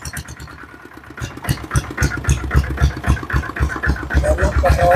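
A 5.5-horsepower diesel Royal Enfield Bullet motorcycle engine chugging with a steady, throbbing low pulse that grows louder and rougher after a quiet start, running close by.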